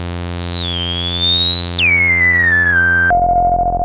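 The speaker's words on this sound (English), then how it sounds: "now you can hear a sine wave being produced by the filter itself at the frequency of the cutoff" A Korg MonoPoly synthesizer's self-oscillating filter makes a pure, whistling sine tone that glides upward, then sweeps down and drops to a low steady pitch over a sustained synth drone.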